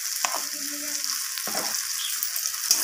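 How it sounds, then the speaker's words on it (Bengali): Ground spices frying with onion and tomato in a hot pan, a continuous bright sizzle with brief stirring scrapes and clatters of a spoon, close and alone. "মশলাগুলো দেওয়ার পর আমি পেঁয়াজ আর টমেটোর সাথে মশলাগুলোকে এইভাবে কষিয়ে নিচ্ছি"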